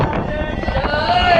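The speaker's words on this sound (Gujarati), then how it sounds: "તમે જોઈ શકો છો હવા બહુ ફાસ્ટ ચાલી રહી છે" Strong wind gusts hard on the hill at Pavagadh, producing a loud, continuous roar and rumbling buffeting across the microphone. The blowing stays steady and close for the whole moment, with a faint tonal whine rising near the end.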